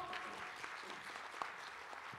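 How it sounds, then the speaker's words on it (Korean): A forum audience at the 2022 Pyeongchang Peace Forum claps to welcome a session chair, with faint, distant applause running steadily for about two seconds. "여러분 국장님을 큰 박수로 환영해 주십시오."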